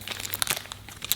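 A bag holding several keys for a 2000 BMW E39 M5 is handled up close, giving crisp crinkling plastic rustles with small irregular clicks over about a second, with no talk.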